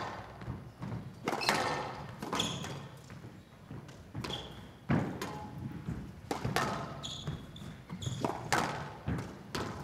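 Squash ball struck with a forehand during a women's world championship match, a series of sharp, close thwacks and bounces at irregular intervals amid crowd noise and a commentator's voice.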